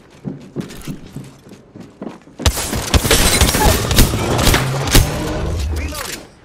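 Gunfire in Apex Legends, a dense, loud burst of rapid shots and mechanical clatter erupting after sparse earlier clicks and thumps, sustained for several seconds close by.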